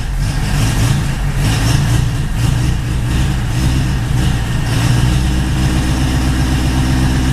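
A 1980 Honda Accord engine fitted with a Weber carburetor runs loud and close, holding a rough, steady drone throughout with slight unevenness in its pulse, as if starved of fuel.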